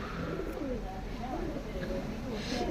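Pigeons, including fancy varieties, coo with low rolling calls that rise and fall steadily over a constant background hum, with voices faintly mixed in.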